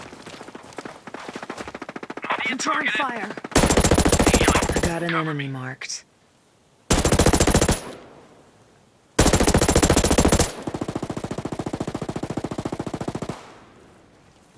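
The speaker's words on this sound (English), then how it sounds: "Enemy fire!" Enemy gunfire erupts in the Ghost Recon Breakpoint PvP shooter as three loud, sustained automatic bursts separated by brief quiet gaps. Radio-style voice lines are heard between the bursts.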